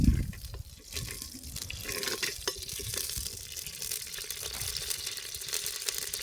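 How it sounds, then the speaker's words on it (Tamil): Mustard seeds popping and spluttering in hot sesame oil in a village kitchen, a quiet crackling sizzle with scattered sharp pops throughout. "கடுகு கடுகு பொறிஞ்சு வர்றதுக்கு அப்புறம் நம்ம வந்து கருவேப்பிலை போடுவோம்"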